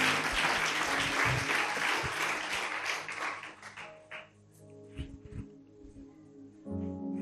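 A church congregation applauding at a worship service, a dense burst of clapping for about three seconds that thins out and fades to scattered claps.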